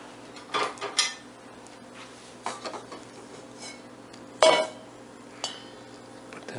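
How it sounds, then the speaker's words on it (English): A spoon scoops avocado flesh into a bowl, making several light clinks and scrapes against the bowl at irregular intervals over a quiet background. "Gonna need a spoon to scoop it."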